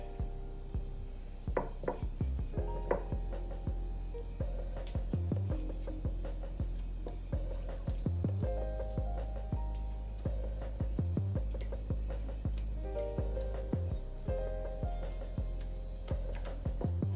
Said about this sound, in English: I'm gonna rub some butter in here